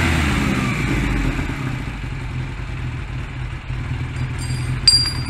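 Honda Rebel 125 motorcycle engine idling before it has warmed up, mid-adjustment of the carburetor, a steady low mechanical rumble with a brief metallic tick near the end.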